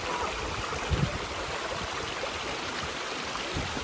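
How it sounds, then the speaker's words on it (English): Steady rushing water from a waterfall and the stream below it at Waipuilani Falls in Hawaii, a continuous broadband wash close by with no voices. "So yeah, it has this waterfall"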